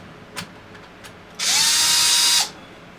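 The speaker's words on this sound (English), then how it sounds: "The drill is on this side." A power drill runs in one steady burst of about a second while taking apart the rear end of a Traxxas X-Maxx 8S RC truck, preceded by a few faint clicks and handling taps.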